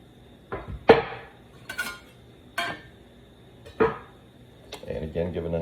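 A spoon clinks and scrapes against a pot while kale soup with chopped Yukon Gold potatoes is stirred, giving about half a dozen separate metallic knocks spaced irregularly, close and clear with quiet gaps between them.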